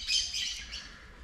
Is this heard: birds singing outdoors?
yes